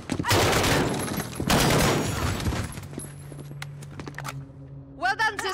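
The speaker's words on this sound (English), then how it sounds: "Point and shoot until they fall." Two loud bursts of rapid gunfire at guards in Call of Duty Modern Warfare, close and dense, then a quieter stretch with a steady hum and faint movement, and a voice speaking at the end.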